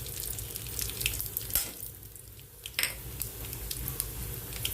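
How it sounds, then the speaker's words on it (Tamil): Peanuts, fenugreek and cumin sauté in a pan for Andhra-style tamarind rice, giving a quiet, steady sizzle and crackle close by with a few scraping stirs. "எல்லாம் போட்டு வதக்கிக்கலாம்."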